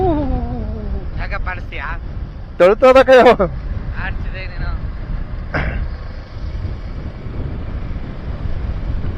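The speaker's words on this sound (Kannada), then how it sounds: "ಸ್ವಲ್ಪ ಗಾಳಿ ಬೀಸ್ತೈತೆ" Wind rumbles and buffets against the microphone throughout on the Male Mahadeshwara Hills, Chamarajanagar, with short bursts of voices breaking through near the start.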